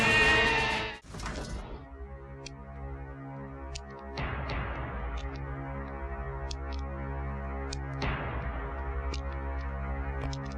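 Several goats bleat in a long, wavering, tonal cry that swells and carries on for many seconds, fairly faint and with no talking over it.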